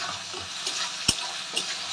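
Soaked Gobindobhog rice fries in oil in a pan with a continuous bright sizzle, plus a few soft scrapes and one sharper knock as it is stirred. No one speaks over it.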